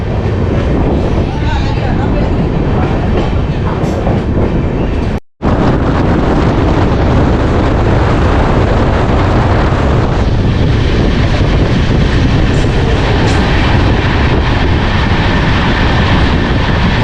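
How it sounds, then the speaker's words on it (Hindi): Sadbhavana Express passenger train running after leaving Hapur, a loud steady roar of wheels and wind rushing past the microphone, broken by one brief dropout and then continuing unbroken. "अपनी ट्रेन हापुड़ से डिपार्चर कर चुकी है"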